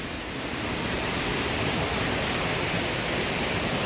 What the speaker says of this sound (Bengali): দেখুন ওয়াটারফলটা দেখে নিন।